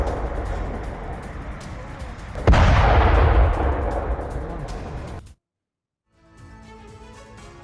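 A loud blast from an airstrike on an oil depot in southern Tehran bursts in, followed by a long roaring rumble that fades, then a sudden cut to quiet and faint crackling.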